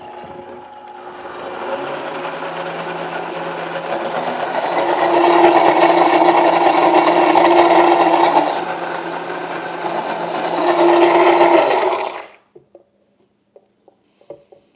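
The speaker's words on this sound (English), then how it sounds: "So we're grinding that baby up." A blender grinds green bean casserole into a puree, a loud, steady motor whir that swells and dips as the load changes, then stops abruptly, followed by a few faint clicks and taps.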